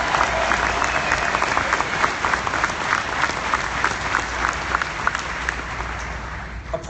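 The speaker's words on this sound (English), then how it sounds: "How about a big round of applause?" An audience at a corporate homecoming event bursts into a big round of applause, loud, sustained crowd clapping with sharper individual claps standing out across several seconds and no speech over it.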